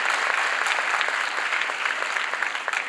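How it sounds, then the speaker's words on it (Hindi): An audience at a children's dance performance event breaks into steady, dense clapping that holds at an even level throughout, with no voices over it. "और एक बार हम सब लोग इसके लिए तालियां बजाएं"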